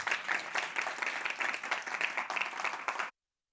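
Clapping from the audience at a Reading Panel meeting, answering a greeting after the minister's remarks; a steady, fairly close patter of many hands that runs for about three seconds, then stops abruptly into silence.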